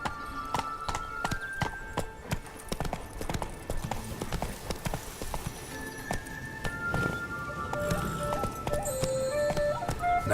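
Roach the horse from The Witcher 3 gallops in rapid, rhythmic hoofbeats, close and steady, with faint tonal game sounds in the background and no talk.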